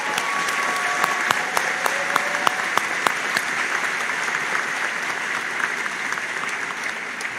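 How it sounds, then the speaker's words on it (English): A graduation ceremony audience applauds, with dense continuous clapping and distinct individual hand claps popping out near the front, sustained evenly throughout at a fairly loud level. "Let's give them a big round of applause"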